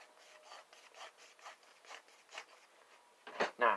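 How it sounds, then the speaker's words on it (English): A knife being drawn through a handheld sharpener, about a dozen quick rasping strokes in an even rhythm, close and fairly soft, ending in two louder scrapes. "Knife sharpener."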